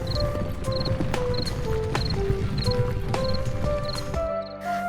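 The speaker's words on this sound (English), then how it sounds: "the robbers got on their horses and left the house forever" Horses clip-clopping away at a steady trotting rhythm, hoofbeats evenly spaced and fairly close, with a bright repeated jingle above them.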